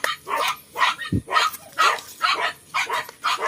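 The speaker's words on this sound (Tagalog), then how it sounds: "pasensya na maingay yung mga aso namin" Several dogs bark repeatedly in short, loud bursts, a steady volley of yaps close by with no pauses.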